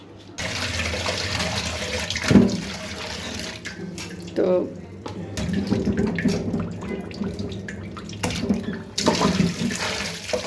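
Water gushes steadily from a just-restored household water supply, a continuous splashing rush with a few louder bursts while people talk nearby.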